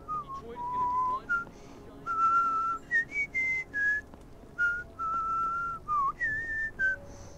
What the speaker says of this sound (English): I just heard that guy whistling that